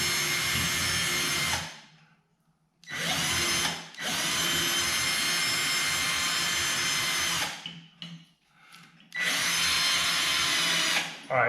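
A power drill drives screws into a wooden floor joist, three loud, close bursts of high whirring with short pauses between them and a brief clattering gap before the last run.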